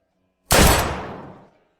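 A single sharp gunshot cracks out of silence during target shooting, then a reverberant tail fades away over about a second.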